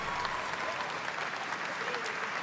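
An audience at a live gaming event at Gamescom breaks into sustained applause, a dense, even wash of clapping from a large crowd that holds steady throughout.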